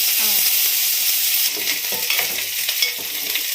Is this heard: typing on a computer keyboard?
no